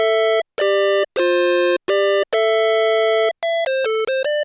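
Bright detuned unison synth voices from an ESI XSynth played with a Clockwork PI, loud sustained buzzy tones in a sequence of separate notes, longer held ones then quicker short stabs, with clean gaps between.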